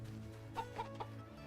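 A farm chicken in the video game Rune Factory: Guardians of Azuma gives three short, soft clucks over a steady low game background hum.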